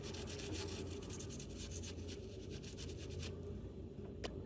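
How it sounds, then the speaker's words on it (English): A soft brush scrubbing a water-damaged DJI Mini 2 drone circuit board soaked in isopropyl alcohol, a quiet, steady bristly rasp with rapid back-and-forth strokes that stops near the end. "Just apply isopropyl alcohol directly to the affected components and gently scrub the area with a"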